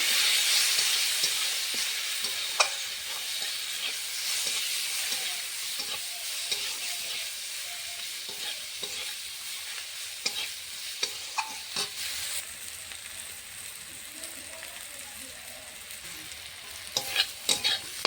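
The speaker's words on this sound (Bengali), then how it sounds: "দিয়ে দেব ধনে গুঁড়ো, সামান্য একটু জল দেব, মশলাটা পড়ে যাবে।" Coriander powder masala frying with a little water in a pan for a fish curry makes a soft, steady sizzle, punctuated by frequent spatula scrapes and clicks of stirring.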